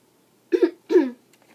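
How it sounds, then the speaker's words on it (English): A man clears his throat twice in quick succession, close and dry, in an otherwise quiet room. "I had to clear my throat"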